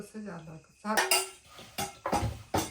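A spoon mixing homemade pickle ingredients with mustard, cumin, fenugreek powder, chili and tamarind pulp in a metal vessel, giving several clinking, scraping strokes, with faint talk in the background.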